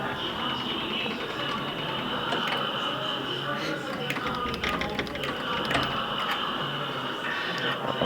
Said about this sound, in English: There's an iPad mini in the claw machine.